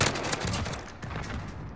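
Grau 5.56 rifle fire in Modern Warfare, a loud close burst of rapid automatic shots in quick succession, sharp repeated cracks lasting under two seconds.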